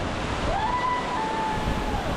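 A 155-foot waterfall in Idaho roars in a dense, unbroken wash of noise, its spray falling close by like heavy rain. A faint whistle-like tone drifts through the middle, and no one speaks.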